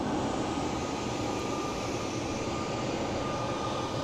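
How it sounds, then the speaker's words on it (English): A British Airways airliner taxiing at Boston Logan airport, its engines giving a steady, continuous broadband roar heard from a distance with no talk. "So we're gonna have some more waiting time while Speedbird goes back down the runway."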